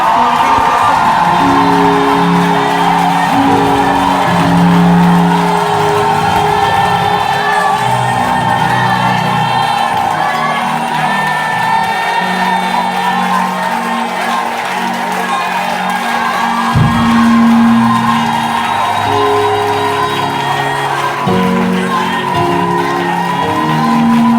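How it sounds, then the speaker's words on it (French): Church congregation at a charismatic worship service shouting cries of joy, a loud continuous crowd roar of whoops and cheers under music that stays full throughout. "Je veux que quelqu'un donne des cris de joie"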